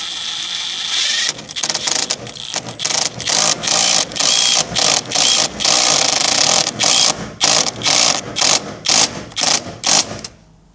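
A power driver sinks a screw into a workshop window frame, whirring in a long series of short, loud, close pulses with brief pauses between, ending in silence.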